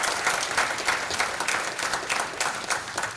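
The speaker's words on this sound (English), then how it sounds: "Give the local financiers a round of applause." An audience applauds steadily at a harbour-development announcement for a second cruise pier at Port Zante, with dense, sustained clapping throughout and no voices on top.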